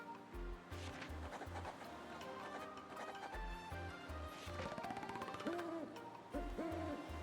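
Owl in a video game hooting in a repeated low rhythmic pattern over a busy game soundtrack, with wave-like ambience and rising musical tones layered on top.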